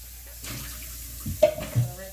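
Tap water runs into a kitchen sink as fresh garden vegetables are rinsed, a soft, close trickle with a few brief splashes and clatters near the end.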